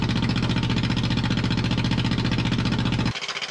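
A bulldozer's small pony motor fires and runs, a fast, steady mechanical chatter that holds evenly at close range and then cuts down abruptly to a slower, lighter pulsing near the end.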